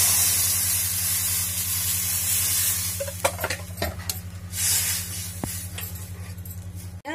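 Gram flour and yogurt batter for kadhi is poured into a hot pan of spiced oil, producing a loud continuous sizzle and hiss with scattered clinks and stirring, over a steady low hum, with no speech.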